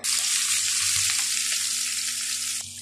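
Cardamom and cinnamon hitting hot oil for a beef dish set off a loud, dense, hissing sizzle that holds steady close up and eases slightly just before the end.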